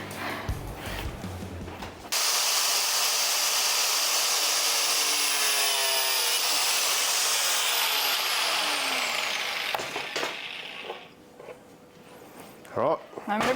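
A power tool cuts through a Cruiser Company rear bar with a loud, steady grinding whine lasting about eight seconds after a short noisy start, then dying away into quieter handling clatter and knocks.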